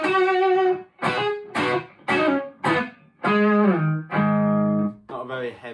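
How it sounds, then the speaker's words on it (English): An electric guitar played through an Electro-Harmonix Soul Food distortion pedal plays a series of distorted notes and chords, each ringing briefly before the next, with gritty, buzzing overdrive. "Not a very heavy distortion pedal, but that's what it's based on."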